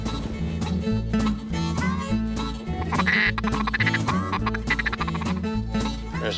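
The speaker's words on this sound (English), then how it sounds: "There's some teal." Teal ducks quack repeatedly and fairly loudly on a Louisiana duck hunt, a busy, dense run of calls that fills the whole stretch.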